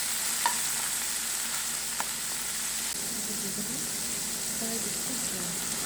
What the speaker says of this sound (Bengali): তারপরে আবার একটু মশলাটাকে কষিয়ে নেব।